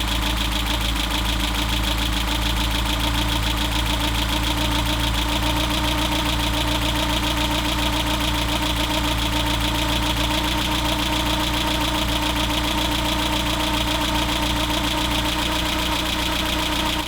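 A 1992 Renault Trafic engine idles steadily on LPG after its cylinders are switched over from petrol, giving a loud, close, continuous drone with an even knocking pulse.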